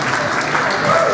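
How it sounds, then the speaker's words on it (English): A prom crowd in a high school gym claps its hands together in a steady, dense wash of applause, loud and close for a short burst. "Y'all clap your hands if you saw it."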